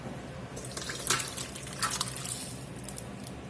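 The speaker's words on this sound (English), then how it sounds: "Straining off this braised liquid" Braised beef liquid, cooked with thyme and rosemary, streams and drips through a strainer in a soft, continuous watery trickle that swells briefly in the middle, with no talking.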